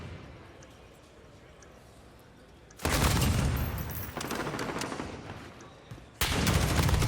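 Call of Duty gunfire during a League match, rapid bursts of automatic fire that break in loud and close, with a commentator talking over the action.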